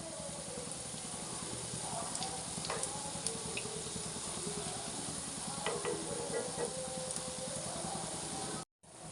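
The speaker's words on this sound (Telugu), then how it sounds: "మీడియంలో వేయించుకుందాం. బ్రౌన్ కలర్ వచ్చేంత వరకు వేయించుకుందామండి." Bread pieces frying in a pan over medium heat until they turn brown, for a sweet bread halwa (double ka meetha). A steady, close sizzle runs throughout with small crackles, then cuts out briefly near the end.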